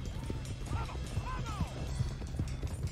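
Horse hooves galloping in Red Dead Redemption 2, a quick repeating clip-clop rhythm with brief whinny-like calls, heard fairly quietly in a game scene under a constant background bed.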